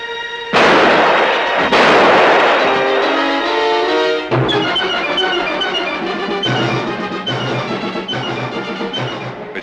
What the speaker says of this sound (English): Good shot, Vogel.